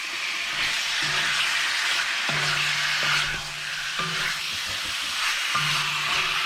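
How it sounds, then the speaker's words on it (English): Steady crackling sizzle of pork cubes frying in hot oil, continuous and close, with occasional soft clinks and scrapes. "We're going to fry this up."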